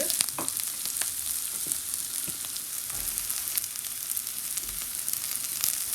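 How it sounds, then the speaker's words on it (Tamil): Onions and fenugreek seeds fry in a pan with a steady close sizzle, broken by scattered scrapes and taps as they are stirred. No voices are heard. "ஒரு ஒன் மினிட்ஸு விட குறைய நேரம் இப்படியே நீங்கள் மிக்ஸ் பண்ணுங்கள்"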